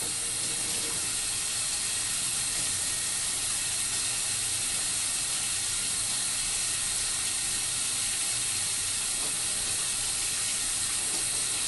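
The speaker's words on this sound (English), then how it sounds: "I'm going to first wash my hands with warm water and soap for 20 seconds." Warm tap water runs steadily into a sink while hands are washed with soap, a continuous close hiss with no pauses throughout.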